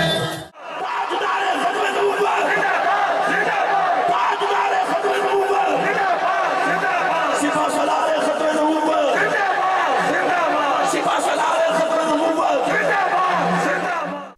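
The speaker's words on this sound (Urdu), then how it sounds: "اس پیغام پر جہلم کے جمع غفیر نے سپہ سالار ختم نبوت کے نعرے بلند کر دیے۔" A large gathering in Jhelum raising religious slogans, a dense roar of many voices that is loud and continuous throughout, with crowd chatter mixed into the chanting.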